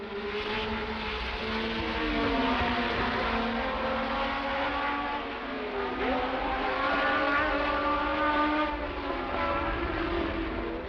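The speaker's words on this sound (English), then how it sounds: "Five laps from the end and Scheckter moves up to overtake him" 1970s Formula One racing cars at speed on a circuit, with high engine whines rising and falling in pitch as several cars sweep past continuously, loud and sustained.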